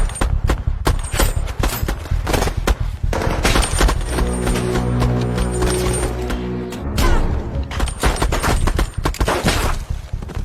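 Shootout between police and a team of former elite soldiers in the action film The Contractor, with dense rapid automatic gunfire in loud repeated bursts, a sustained tonal drone mid-scene, and a scrap of shouted dialogue.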